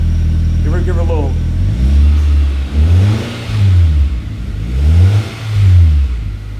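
A Nissan Kicks fitted with a Nismo Juke muffler revs up close in repeated swells, deep exhaust climbing and dropping back about three times, with a brief voice early on.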